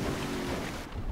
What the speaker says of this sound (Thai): ทำไมผมขับเรือดำน้ำแบบเทพจังเลย